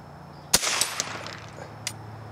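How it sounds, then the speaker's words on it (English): A single sharp crack from a Remington Speedmaster .22 rifle fired at swinging targets outdoors, followed by faint ringing and small clinks, then one more faint tap. "Let's shoot the biggest one first on the far left."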